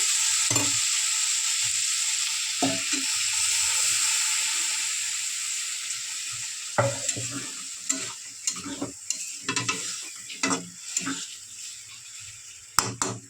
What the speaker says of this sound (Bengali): পেঁয়াজটা আলু দিয়ে ভালো করে সব কষে নিয়েছি এবারে দিয়ে দেবো ঝোল